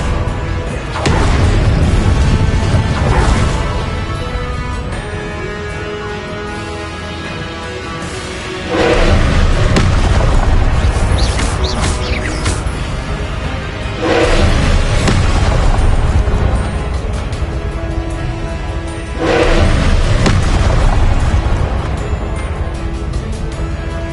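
Repeated Confringo blasting spells from Hogwarts Legacy detonate in loud, booming bursts, roughly four heavy explosions spaced several seconds apart over a continuous rumbling game background, with no talking.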